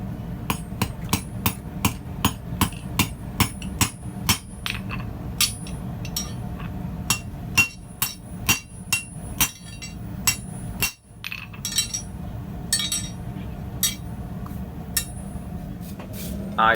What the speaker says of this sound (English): Then I rivet this tongue together, just to give one of these rivets a go.